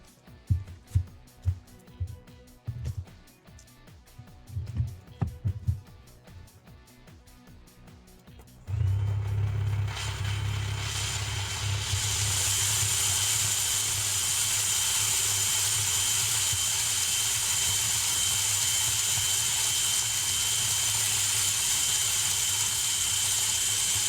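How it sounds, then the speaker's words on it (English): A power drill bores into a bread mask: scattered handling knocks first, then the drill starts and runs at a loud, steady whine for over fifteen seconds without stopping. "So back to drilling."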